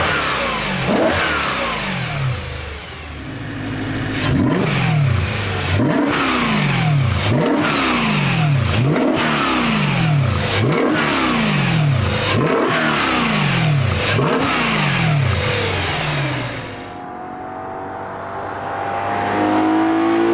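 A BMW M3 fitted with an aFe carbon fiber intake revs repeatedly in quick, rhythmic blips, a loud, close, throaty induction roar that rises and falls many times before settling toward idle.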